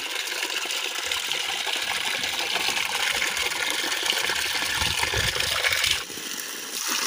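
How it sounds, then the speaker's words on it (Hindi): Water pours steadily from a new hose pipe while a buffalo is bathed in a village, a continuous broadband gush and splash that holds level for about six seconds and then drops away, with no talking. "पहले पहले 3-4 घंटे ना पानी इस तरह का आता है, फिर बाद में ना आहिस्ता आहिस्ता साफ हो जाता है"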